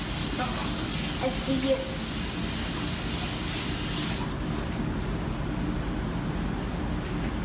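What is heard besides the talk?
water running while washing hands at the sink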